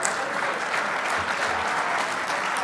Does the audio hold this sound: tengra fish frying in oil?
no